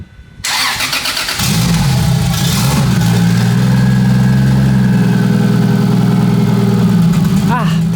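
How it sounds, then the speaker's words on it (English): A Toyota 2JZ engine in an untuned car running on its base map cranks and fires after a short starter whir, then settles into a loud, slightly uneven idle that continues to the end. "the idle was a bit weird because I think the car is not tuned, it's just running on the base map"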